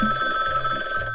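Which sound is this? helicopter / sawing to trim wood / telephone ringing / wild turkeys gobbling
telephone ringing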